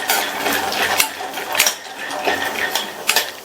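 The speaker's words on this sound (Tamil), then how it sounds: "இந்த வேர்க்கடலைய கிறிஸ்பி ஆற வரையும் வறுத்துக்கங்க" Raw peanuts roasting in oil in a pan, the kernels rattling and clinking against the metal in a steady busy patter with sharper clicks now and then, close and alone.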